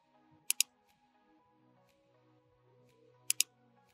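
Two quick paired keystroke clicks on a computer keyboard, one pair early and another near the end, entering a username and password during a Kali Linux install in VMware, close and crisp over a faint hum.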